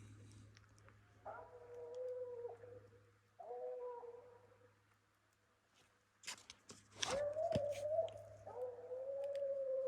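A female raccoon hound bays while tracking a scent: drawn-out, howling bays, a couple at first and then a louder, longer run near the end with rustling and clatter.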